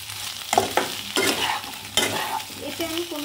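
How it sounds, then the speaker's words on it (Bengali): Boiled potatoes with ginger, green chili and salt are stirred in a sizzling pan, with repeated close scraping strokes of a spatula over a steady frying hiss. "আমি আলুর সঙ্গে এই মশলাটাকে একটু কষিয়ে নেব"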